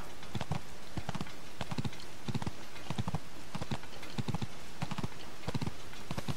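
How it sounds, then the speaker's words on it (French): Mountain stag trotting in Zelda: Tears of the Kingdom, its hooves making a steady, close clip-clop in an even rhythm throughout, with no voices. "cet animal adorable, c'est un cerf des montagnes, pas vrai?"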